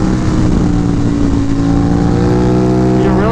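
An Aprilia Tuono 660 motorcycle with an UpMap tune and mods revs hard in second gear around 6,000 rpm, a loud continuous engine roar with rising pitch near the end, heard from the rider's position.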